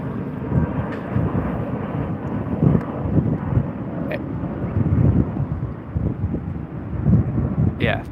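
A Jetstar airliner on its Hobart flight, heard as a broad, low rumbling roar that swells and fades at a distance while taking off, with wind buffeting the microphone.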